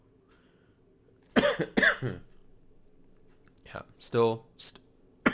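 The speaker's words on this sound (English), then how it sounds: "coughing. I massively apologize." A man coughs in a few harsh bursts, with short spoken words in between, close to the microphone against a quiet, faint background.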